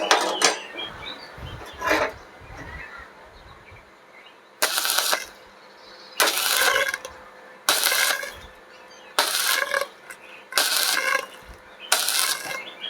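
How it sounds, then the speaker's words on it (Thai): Thin galvanized steel pipe is tack welded in a series of short, sharp, crackling bursts, about six evenly spaced spurts of sizzling sparks with quiet pauses between them, close up and with no talking. "มันจะมีเสียงเชื่อม ที่ดังขึ้นมาก็มีควันเยอะ"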